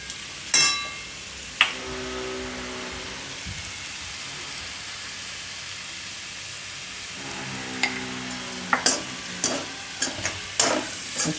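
Potato and rice mixture cooking in a pan, with a soft continuous sizzle and sharp scraping clicks of stirring at the start and repeatedly toward the end.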